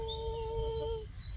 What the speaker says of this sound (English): Go away, birds.